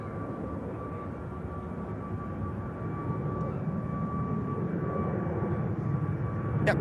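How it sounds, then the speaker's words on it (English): Air France A220 jet going around at Manchester Airport, a steady broadband engine roar with a faint tonal whine, heard from a distance and slowly growing louder over several seconds. "220 of Air France should use your usual SOP for a go around here at Manchester."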